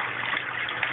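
Water flows slowly through a garage aquaponics duckweed pond, a steady close gush and trickle filling the whole second with no talk.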